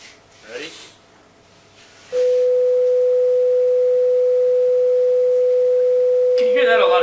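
A steady, loud pure sine tone at 500 hertz starts abruptly after about two seconds and holds unchanged for roughly five seconds, with a brief snort-like noise before it and a burst of sound just at the end.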